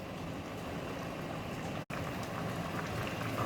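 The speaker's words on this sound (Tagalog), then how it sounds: "Hayaan lang natin kumulo mga lods. Para maluto yung gulay." A pot of mung bean soup with vegetables simmers at a steady rolling boil, a dense, continuous bubbling and crackling close by, with no talking.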